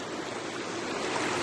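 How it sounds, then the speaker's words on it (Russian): Mudflow water rushes down a mountain gorge after a debris flow on the road to the Koksu mine, a loud, close, continuous roaring torrent with no pauses. "Ужас, это вот воду так тащит."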